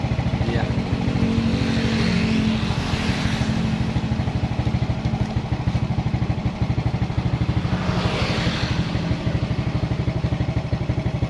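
Suzuki Smash motorcycle engine with a severe misfire, running loud and steady up close with a rough, uneven sputtering pulse and rising revs in two swells, no voices over it.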